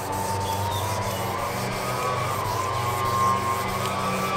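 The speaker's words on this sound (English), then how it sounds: "Take your fingers and push in there and just rub it." A hand rubs oxidation off a fiberglass boat surface, giving a steady, close rasping scrub that carries on without pause and with no talking over it.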